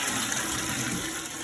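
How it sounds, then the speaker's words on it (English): A toilet flushes in a one-bedroom London flat, a steady broadband gush of rushing water filling the whole moment at close range, with no talk over it. "Flushing system."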